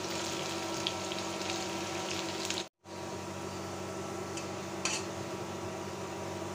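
Onions and garlic frying in a pan at home, a steady, dense sizzle that stays loud and even throughout, with a brief dropout partway and a few faint clinks.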